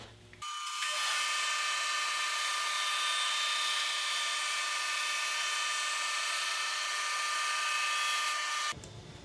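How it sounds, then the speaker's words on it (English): A band saw whines steadily as it cuts a wooden board for guitar linings, a loud continuous high-pitched drone starting abruptly and running about eight seconds before stopping. "So let me go and cut this board."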